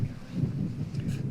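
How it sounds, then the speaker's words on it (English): Wind blows outdoors with a steady, low, buffeting rumble across the microphone. It stays fairly faint throughout, and no voices are heard. "well, it's really windy here"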